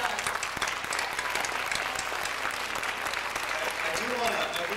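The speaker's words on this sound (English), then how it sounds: "So I think George deserves a round of applause." Sustained, dense applause from an audience at a 1998 Anchorage folk festival, steady and full for the whole stretch with a faint voice or two underneath.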